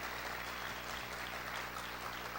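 Church congregation applauding during a sermon, a dense, continuous wash of many hands clapping at a steady level, somewhat distant and reverberant, with no talk over it.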